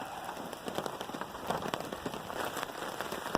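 Steady rain patters on a surface during a mountain camping trip, dense scattered drops tapping continuously at moderate volume with no voices.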